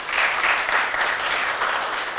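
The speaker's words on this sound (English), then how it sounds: "let's give them one more round of applause for their creative displays" Audience applause for contestants at the 126th Sequim Irrigation Festival Scholarship Pageant: a steady, dense wash of many hands clapping at an even loudness throughout, with no talk over it.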